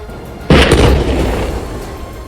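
A mosque in Khan Younis, Gaza, is blown up and collapses, a single loud, sudden blast that booms out and then rumbles on as a heavy roar of falling debris.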